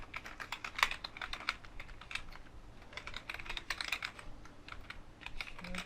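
Fingers typing on a computer keyboard in quick irregular bursts of close, crisp key clicks, with brief pauses between words and a quiet room behind.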